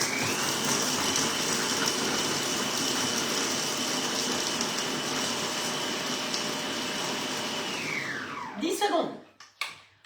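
An All-Clad cooking robot runs at full speed, speed 12, chopping vegetables in a loud, steady high whine that holds for about eight seconds, then winds down and stops, followed by a few clunks.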